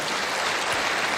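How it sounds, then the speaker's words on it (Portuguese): Dense, steady applause from an audience at a solemn parliamentary session, filling the whole moment at an even level without a break. "eu queria pedir uma salva de palmas para o meu filho que está aniversariando hoje"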